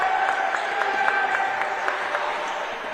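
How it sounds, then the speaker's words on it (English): A basketball crowd at a Shepherd men's college game cheers and applauds steadily, a broad sustained roar with rhythmic clapping in an arena. "The crowd comes to its feet"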